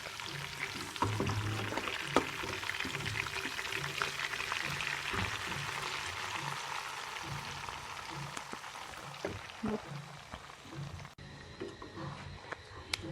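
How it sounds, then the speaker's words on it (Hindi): Roasted flaxseed flour tipped into a pan while making pinni, giving a steady soft granular hiss and rustle, close and fairly quiet, with faint scraping throughout and no talking. "अब हम इसमें ये अलसी जो आटा है अलसी का वो डालेंगे"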